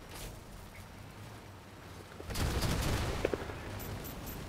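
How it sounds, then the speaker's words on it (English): A cannon shot in the vehicle combat game Crossout, a sudden loud boom breaking in over quieter background rumble, then a sustained rumbling roar with a few sharp clanks, and no speech. "That was a cannon shot."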